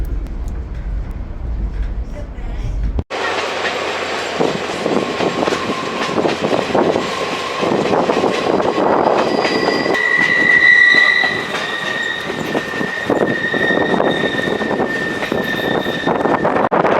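A passenger train near Williams, Arizona rumbles loudly along the rails, heard from on board, with clattering wheels and sustained high-pitched wheel squeals. It starts abruptly after a short quiet stretch and continues for the rest of the clip.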